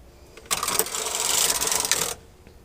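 A knitting machine carriage is pushed across the full bed of needles while short-row knitting a circle, making a single rattling, clattering mechanical pass of about a second and a half that starts and stops abruptly in an otherwise quiet room.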